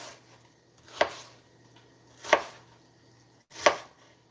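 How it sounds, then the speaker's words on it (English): A knife chops through an onion on a cutting board in three separate, well-spaced strokes, each a sharp close thud against a quiet background. "cut the onion up"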